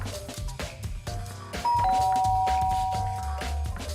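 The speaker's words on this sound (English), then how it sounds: "I pressed the doorbell." A doorbell rings out with a sustained two-tone chime over a background of music and ambient noise, close and clear.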